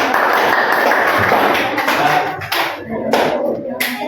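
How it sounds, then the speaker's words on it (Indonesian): A crowd claps together in a dense burst of applause that thins out and tapers toward the end, with no voices standing out. "Tepuk tangan."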